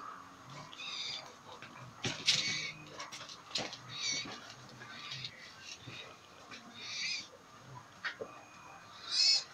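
A common blackbird sings in short, scattered phrases of fluting and chattering notes outdoors, moderately close, with faint background noise and no clear talk.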